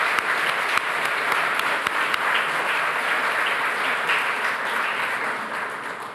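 A large audience at an awards ceremony applauds retiring board members, steady dense clapping at full strength throughout that eases off slightly toward the end, with no talking.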